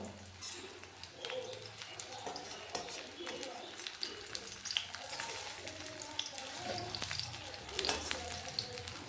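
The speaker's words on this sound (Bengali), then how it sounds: "এভাবে উল্টে পাল্টে লাল লাল করে ভেজে নেব সবগুলো।" Papaya fritters frying in a hot iron wok, a steady crackling sizzle with light scraping as they are turned, while a person talks over the cooking.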